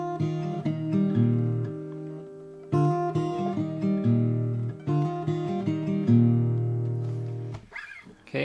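A fingerstyle acoustic guitar plays a passage from a song, with ringing plucked chords and repeated note phrases in a close, clean recording and no talking.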